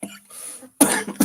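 A man gives two short, harsh coughs close to the microphone, following a brief faint breathy sound.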